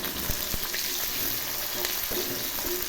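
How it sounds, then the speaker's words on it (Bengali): Diced potatoes and slit green chillies frying in oil tempered with nigella seeds, a steady soft sizzle broken by a few scraping knocks as a spoon stirs the pan. "এই আলুগুলো এখন একটু নেড়ে দিচ্ছি।"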